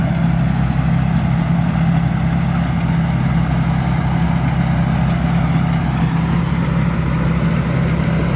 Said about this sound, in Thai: กำลังของเครื่องยนต์นี่แรงดีครับผมหลังจากฟิตเครื่องมาใหม่ครับ